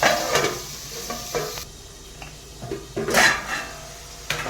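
Mushrooms with green chilli cook in a pan, giving a soft steady sizzle broken by scraping stir strokes and a few sharp clinks of a spatula on metal, close and alone with no talk.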